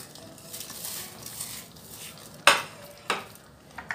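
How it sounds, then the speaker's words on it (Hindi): Crushed onions go into a pan of Hyderabadi lagan ka gosht and are stirred, a soft scraping sizzle broken by three sharp utensil clanks against the pan near the end. "अब इसमें प्याज डालेंगे प्याज को थोड़ा क्रश करके डालेंगे"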